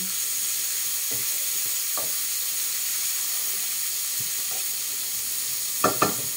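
Bitter gourd (ampalaya) fries in a hot pan with a steady, close sizzling hiss, broken by a few soft clicks of stirring and a sharper scrape near the end.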